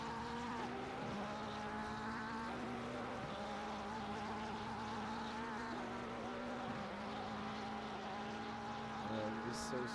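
Race car engines in Assetto Corsa Competizione during an endurance race at Silverstone, a continuous buzzing, high-revving drone of several cars close together, steady throughout with faint shifts in pitch.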